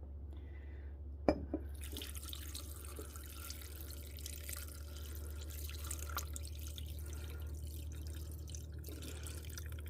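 Ham broth poured into a cooking pot for a New Year's Day meal, heard as a soft steady liquid trickle and splash running for several seconds after a brief sharp clink, close and fairly quiet.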